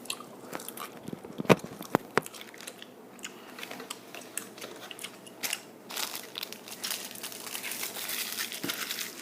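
Close-up chewing gum sounds with wet smacks, crinkly crunches and soft clicks, irregular and intimate, growing busier toward the end with no speech.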